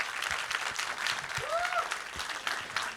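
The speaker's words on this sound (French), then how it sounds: "un tonnerre d'applaudissements pour eux" Audience applause at a ceremony, steady dense clapping from a crowd at moderate distance, sustained throughout with a brief tonal whistle-like sound partway through.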